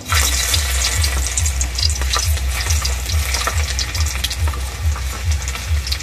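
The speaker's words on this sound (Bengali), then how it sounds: "প্রথমে দেব তেল। প্রথমে দেব রসুন কুচি।" Oil and chopped garlic fry in a hot wok, a loud, close, continuous sizzle with crackling spatter and a rumbling low undertone that persists throughout.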